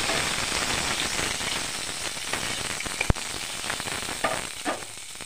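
Garlic cloves and onion pieces fry in hot oil in a steady, dense sizzle, with a sharp utensil click near the middle and a few brief stirring scrapes near the end.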